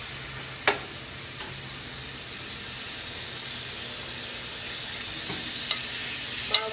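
Pork browning in a pan before garlic and onion go in, a steady soft sizzle with a few faint clicks of a spatula, continuous and fairly quiet.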